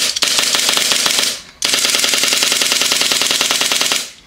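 An air-powered gun running at 100 PSI fires two rapid, evenly paced bursts of sharp shots, a longer string then a short gap and another long string, loud and close with no talk.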